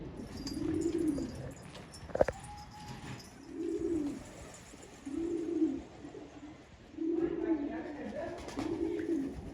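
Old-breed purple Istanbul pigeons coo in repeated low, rolling phrases at a regular rhythm, close by, with one sharp click partway through.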